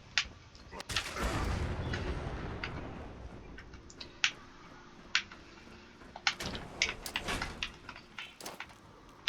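Nuka grenades explode in the video game Fallout 76, a series of sharp, loud blasts and cracking bursts over a rumbling, noisy background, with more clustered hits toward the end.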